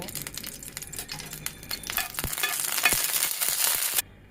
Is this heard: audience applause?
no